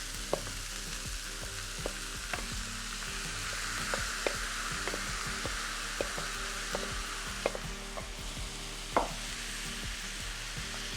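Corn and tomato juice sizzle steadily in a skillet, a continuous frying hiss with scattered sharp pops and occasional stirring clicks, close and moderately loud with no talking.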